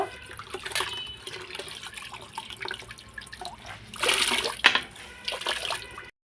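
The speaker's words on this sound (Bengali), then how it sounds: "এখন আমি ঘর মুছবো।" A floor being mopped with water at home: wet swishing and sloshing that swells into louder bursts of watery scrubbing toward the end, with no talk.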